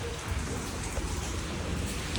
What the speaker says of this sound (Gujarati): તો વરસાદ ખૂબ જ છે, તમે જોઈ શકો છો આ.